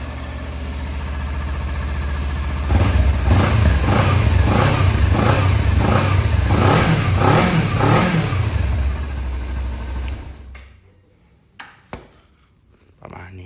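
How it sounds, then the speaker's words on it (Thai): A 2017 Kawasaki Ninja 300 ABS motorcycle idling and then revving repeatedly in short rhythmic bursts, loud and close, before the engine cuts off, followed by a few clicks. "เดี๋ยวสตาร์ทให้ฟังนะครับ เครื่องเงียบเลยนะครับผม"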